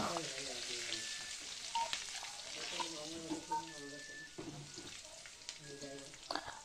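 Crushed garlic fries in oil with a steady low sizzle and occasional stirring scrapes, while a person talks throughout over the cooking noise.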